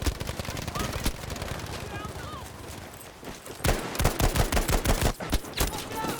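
Battlefield V gameplay gunfire from an STG assault rifle, with dense overlapping shots and short bursts that grow louder and more rapid in the second half, mixed with other battlefield noise.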